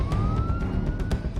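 An ambulance siren wails with a steady rising tone, heard at moderate distance over a low rumbling background, with a few sharp clicks on top.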